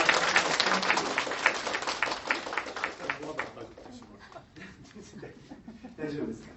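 Audience applause at a university inauguration ceremony, a dense burst of clapping that is loudest at first, then thins out and tapers over several seconds with scattered chuckles and voices.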